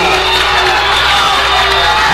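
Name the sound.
Farmington basketball crowd shouting at referees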